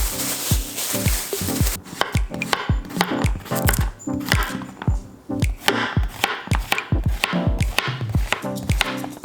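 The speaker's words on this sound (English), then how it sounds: "We're gonna start chopping." A knife chops rapidly and steadily on a board, with sharp repeated thuds in a quick, fairly even rhythm, up close and without talking.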